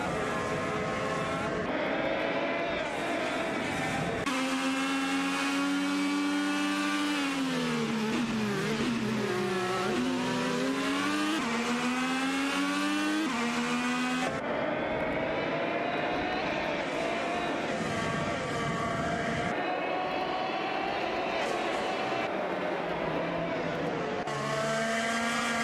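Chevrolet and Honda IndyCar road-course cars racing in a video game, a loud continuous engine drone whose pitch sweeps up and down through gear changes and passes, with no talk.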